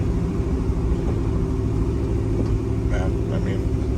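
A cammed 5.3 V8 GMC Sierra pickup with equal-length longtube headers idles and rumbles at low throttle, a steady, fairly tame exhaust drone that is continuous and moderately loud throughout.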